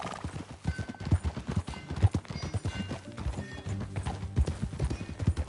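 Horse hooves clip-clopping in the video game Red Dead Redemption 2, a steady, moderately close rhythm of hoof strikes with faint creaks and a brief whinny among them, fairly quiet overall.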